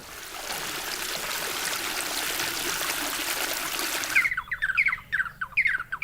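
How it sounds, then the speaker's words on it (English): Water pours from a goatskin bag into irrigation channels in the Sahara, a steady rushing gush. The flow stops abruptly and gives way to chirping bird calls over a faint trickle. "a goatskin bag spills the water into a network of irrigation channels"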